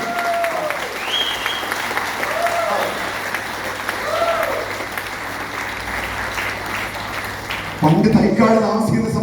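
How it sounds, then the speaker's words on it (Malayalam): Audience applause during a talk, sustained clapping from a sizeable crowd at steady volume, with a few whistles or cheers rising over it, before a voice starts speaking near the end. "കയ്യടിക്കണം."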